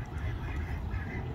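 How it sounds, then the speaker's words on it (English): Hundreds of ducks and geese at a wetland make a dense, constant chorus of quacking and honking, steady and moderately loud for the whole stretch. "That's hundreds of ducks and geese."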